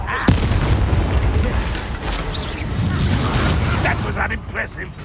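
A Confringo fire spell bursts with a loud boom in the Hogwarts Legacy video game, a sharp blast near the start followed by rumbling explosion noise and crackle, with a voice speaking over it.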